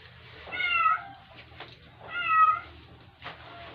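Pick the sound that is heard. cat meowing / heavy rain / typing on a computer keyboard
cat meowing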